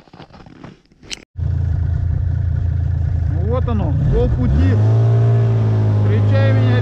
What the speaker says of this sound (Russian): О, идет буран навстречу.